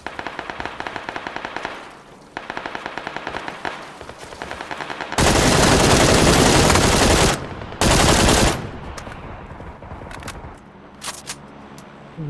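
Rapid automatic gunfire in PUBG on PS4, sharp repeated bursts that start out moderate, swell into long, loud, dense volleys in the middle and thin out to scattered shots at the end.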